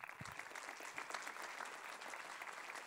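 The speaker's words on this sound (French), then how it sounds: "j'aimerais que vous l'applaudissiez s'il vous plaît" Steady applause from an audience at the opening ceremony of the Saint-Jean-de-Luz International Film Festival, dense clapping that holds evenly throughout without a break.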